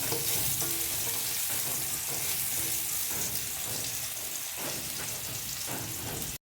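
Food stirred and cooked in a pan for hot soup, with steady close sizzling and frying plus scraping stir sounds throughout, loud and continuous.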